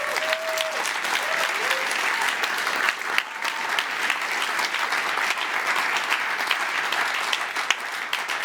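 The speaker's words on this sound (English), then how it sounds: "maybe we can give a big round of applause not only to our winners, but to all startups here today" A large audience at a startup competition event gives a big, sustained round of applause for the winners and all startups, dense and loud clapping that holds steady the whole time.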